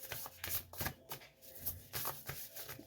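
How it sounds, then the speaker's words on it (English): Tarot cards shuffled by hand during a pick-a-card reading, giving a quick run of crisp riffling flutters and soft slaps that recur in bursts, close and fairly quiet, with no talking. "I never usually do live shuffling."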